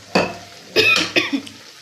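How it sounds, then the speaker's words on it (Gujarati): Three short, dry coughs close to the microphone, the last two coming quickly one after the other. "સૂકી ઉધરસનો થોડો પ્રોબ્લેમ છે"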